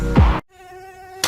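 A mosquito buzzes in a sound effect: a short, close, thin high whine that holds steady for under a second between louder bursts of other sound.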